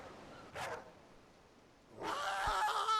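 A dog in the Final Fantasy 16 video game gives a short yip, then a few seconds later a louder burst of barking and whimpering. Both are faint and set over a low background hum.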